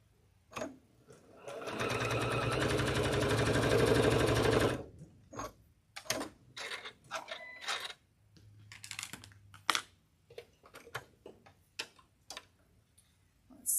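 A domestic sewing machine runs in one steady, loud burst of about three seconds while stitching fabric pieces for a quilt block. Scattered clicks and handling taps follow, with brief talk in between.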